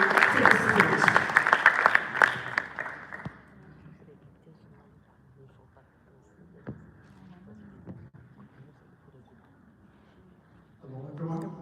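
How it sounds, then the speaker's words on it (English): Audience applause at a reunion event for shadow teachers in the UAE, dense and loud clapping for the first three seconds, then dying away into a murmuring room with scattered claps and some talk. "Please give a round of applause."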